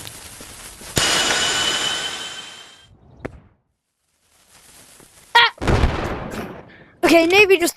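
Firework bursts in the VR game Animal Company: a loud crackling explosion with a long fizzing tail, a brief thump, then two more sharp bursts with whistling, sparkly crackle near the end.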